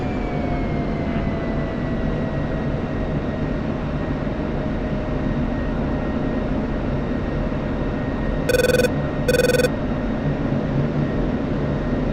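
A steady, loud drone of aircraft engines drones on without a break during mid-air refueling in a flight video game, with two short electronic beep tones close to the end and no voices.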